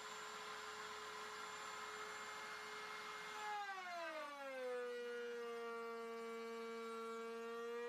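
A router fitted with a dovetail bit cuts reclaimed wood for table legs. It makes a loud, close, steady high whine that drops in pitch partway through as the bit bites in, then holds lower, with no talking.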